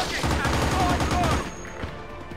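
Rapid automatic gunfire from the video game Battlefield 2: Modern Combat rattles loudly in a sustained burst, then cuts off and leaves a quieter tail with scattered fainter shots.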